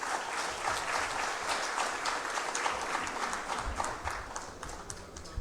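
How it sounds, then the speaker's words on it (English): A large crowd applauds loudly and steadily, dense clapping filling the whole stretch without pause. "So let's have once again a huge round of applause to Mr. Rahul Hirve for showing us this absol"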